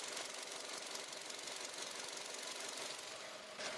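A Kia K5 LPI car engine running on LPG idles steadily, a quiet, even mechanical hum with light rapid ticking and no voices.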